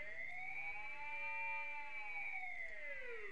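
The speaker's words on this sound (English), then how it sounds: "If I crank this up, it's going to turn into more of a siren sound." Dub siren synthesizer with the effect cranked up, sweeping pitch up and down in smooth wailing arcs, clear and alone for a few seconds.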